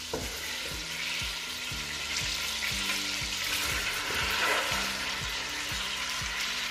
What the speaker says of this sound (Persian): میذارم یه مقدار گوشت سرخ بشه داخل کره و روغن.